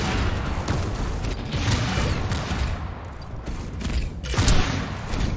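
Gunfire in an online team shooter game, a loud, sustained barrage of rapid shots with mechanical clattering, continuous for several seconds.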